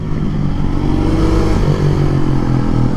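A Husqvarna 701 supermoto motorcycle rides along at steady throttle, its engine drone loud and close with a continuous low hum and rough mechanical texture throughout.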